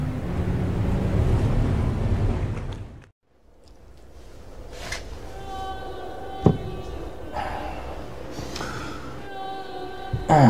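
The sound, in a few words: wind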